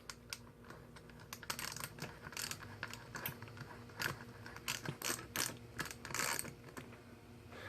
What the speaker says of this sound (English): now we will use our 6mm Allen. Make sure you flip your ratchet for the opposite side.